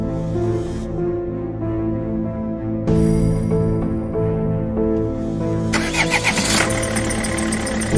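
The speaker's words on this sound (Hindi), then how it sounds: "गुल्ली बुल्ली गाड़ी में बैठकर शॉन के घर की तरफ निकल जाती हैं।" A car engine cranks and starts in an animated scene, followed by a steady running rumble, with a louder burst near the end.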